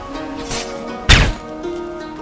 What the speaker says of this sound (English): And here comes our first slide kill of the game.